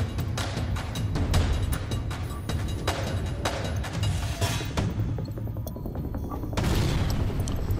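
Missiles launching and exploding in the spaceship game FTL: a rapid, busy run of sharp impacts and booms over a thick low rumble, briefly thinning before another loud burst near the end.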